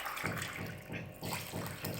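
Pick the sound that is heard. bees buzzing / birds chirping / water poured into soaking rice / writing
water poured into soaking rice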